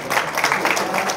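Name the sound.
applause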